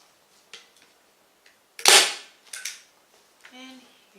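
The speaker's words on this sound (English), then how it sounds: "I'm going to staple the material" Staple gun firing into upholstery fabric on a chair, a sharp loud snap with a second smaller shot after it, set among faint handling clicks in a quiet room.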